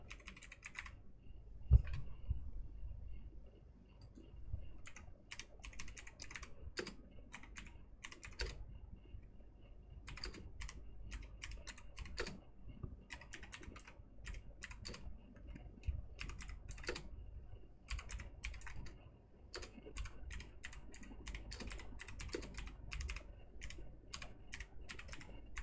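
Fingers clatter steadily across a computer keyboard, typing a ChatGPT prompt in quick, close, uneven bursts of key clicks with brief pauses, no talking.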